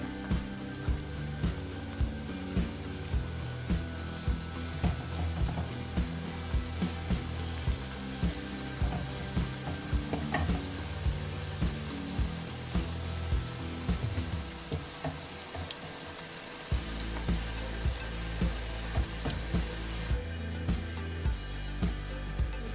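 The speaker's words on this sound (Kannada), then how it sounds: "ಎಣ್ಣೆ ಕಾಯಿಸ್ಕೊಂಡು ಡೀಪ್ ಫ್ರೈ ಮಾಡ್ಕೊಳ್ಳೋದು" Mexican mint leaf pakoda batter deep frying in hot oil, a dense, continuous crackling sizzle close by for a long stretch with small pops throughout, a brief dip near the end before it resumes, no talking.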